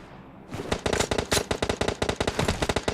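Fast automatic gunfire in PUBG Mobile: loud, close sustained bursts of evenly spaced shots that begin after a brief quiet lead-in and keep rattling to the end.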